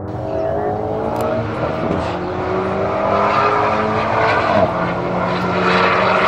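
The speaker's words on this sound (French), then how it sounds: "Léger frein ici, on prend les gaz progressivement." A car engine drones steadily and loudly throughout on a race circuit, on Bridgestone Potenza Sport tyres, its pitch rising gradually as it accelerates, with a brief dip midway during light braking.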